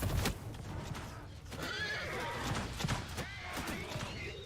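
Horses whinny and neigh amid a busy battle soundscape in the video game Mount & Blade II: Bannerlord, with a dense wash of background noise and hoofbeats underneath.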